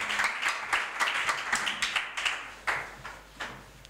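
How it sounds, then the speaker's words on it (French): A church congregation applauding, a loose patter of many hands clapping in uneven bursts throughout, moderately loud with no voices over it. "On acclame le Seigneur."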